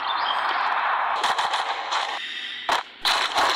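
Rapid automatic gunfire from a shooter video game rattles loud and close in dense bursts, with brief gaps and a few sharper separate shots toward the end.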